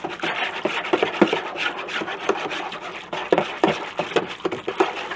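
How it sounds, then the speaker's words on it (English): An old whisk stirring homemade fabric softener with dissolving scent beads, a quick rhythmic scraping and swishing that repeats steadily at close range, with no voices. "just keep whisking it until you really don't see the scent beads any longer"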